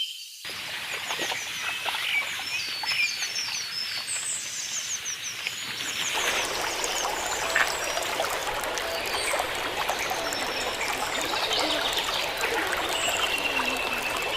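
Steady running water flows continuously, with a broad rushing wash and birds chirping faintly above it.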